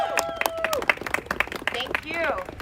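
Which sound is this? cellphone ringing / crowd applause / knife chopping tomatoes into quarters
crowd applause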